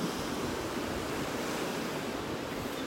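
Ocean waves wash steadily on a beach in North Naples, Florida, while wind buffets the microphone, a continuous broadband roar with no voices.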